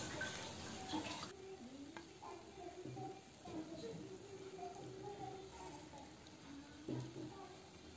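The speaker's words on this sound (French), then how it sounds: "La galette est presque cuite, je verse la préparation dessus." Batter is poured onto a nearly cooked galette in a hot pan, giving a soft continuous sizzle with light scraping and utensil clinks and a voice talking over it.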